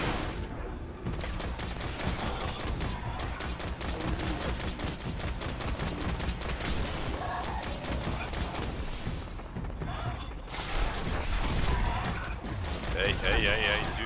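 Rapid gunfire in the video game Destiny, a dense stream of shots and bursts that runs almost without pause at high volume, with game effects and voices talking over it.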